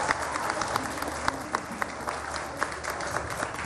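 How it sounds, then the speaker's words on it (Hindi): Applause from a studio audience during a live Ramadan iftar TV broadcast, a dense, steady wash of clapping that runs throughout with a few sharper claps standing out. "डॉक्टर साहब के लिए बहुत सारी तालियां।"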